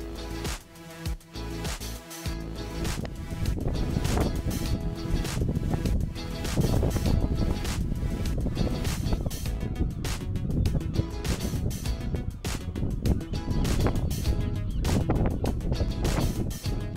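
Wind gusting outdoors on a cold walk to horse stables, a loud, steady broadband roar with buffeting surges against the microphone throughout.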